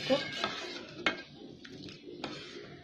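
A utensil mashes cooked arhar dal in a cooking pot, making soft scraping strokes and a few sharp metallic knocks against the pot, fairly close and moderately quiet.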